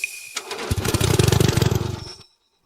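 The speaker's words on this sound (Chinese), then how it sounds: "发动机真熄火了" An old boat engine, rusted and left unused for four years, cranks and sputters through a burst of rapid uneven firing pulses for about two seconds, then cuts out abruptly into silence, as if stalling.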